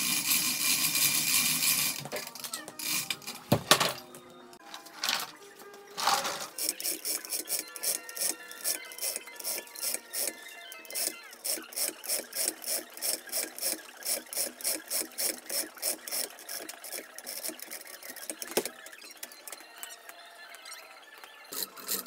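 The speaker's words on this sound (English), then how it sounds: "I'm removing the bolts." Bolts being backed out of a casting mold during demolding, a fast run of rhythmic ratcheting clicks and squeaky metal rubbing after some louder handling noises, close and fairly quiet.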